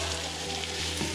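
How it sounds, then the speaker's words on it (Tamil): Onions sautéing in a pan until browned for Sankarankovil-style chicken biryani, giving a steady, close, dense sizzle and crackle throughout, with no voices. "நல்ல ப்ரௌனிஷ் ஆகிற வரைக்கும் நல்லா வதக்கணும்"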